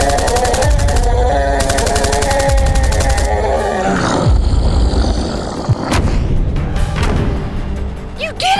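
Pistol gunfire in a video game fights off roaring giants, with rapid bursts of shots and deep monstrous roars and grunts layered together, loud and dense throughout.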